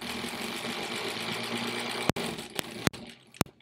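A 1938 Kenmore model 38 sewing machine motor running with a steady mechanical hum and rapid rhythmic clatter, close and continuous, broken near the end by a few sharp clicks.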